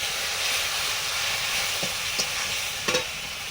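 Chili powder frying in a hot pan with a little water just added, giving a steady broad sizzle and hiss throughout with a few brief clicks of stirring near the end.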